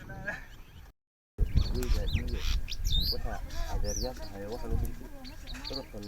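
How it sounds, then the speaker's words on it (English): Birds chirp and call through a morning in a village in Wajir, Kenya, with bright twittering and whistles heard under a person speaking, after a short silent gap. "The chirping birds that greet the morning here in Tosorie Village are quickly drowned by groans of human suffering."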